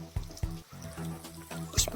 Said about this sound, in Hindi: वो पानी जो आ रहा है वो मंदिर के नीचे होके पानी आ रहा है